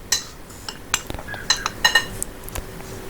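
A tablespoon clinks and scrapes against a bowl while mixing sifted flour batter for a Kerala snack, giving scattered sharp metallic taps and chinks, close and moderately quiet, with no talking.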